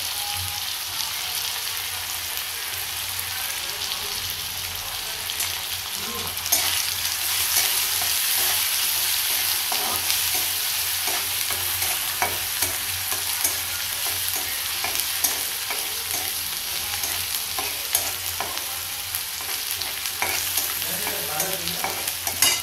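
Onions and turmeric fry in a pan for aloo palak bhaji, giving a steady close sizzle broken by frequent stirring scrapes and clinks throughout, with no talking.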